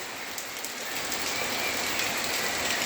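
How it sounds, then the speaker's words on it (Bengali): Rain falls steadily in the morning outside a house, making an even, hissing patter that stays constant throughout with no voices. "বৃষ্টি লাগিয়ে দিল।"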